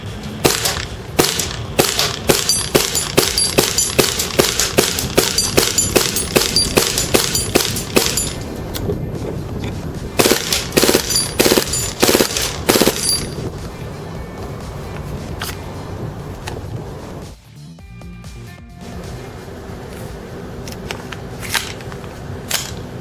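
KWA H&K MP7 airsoft gun shooting BBs, heard as a long string of snappy, evenly spaced single shots followed by a quicker cluster, then a quieter stretch of background noise.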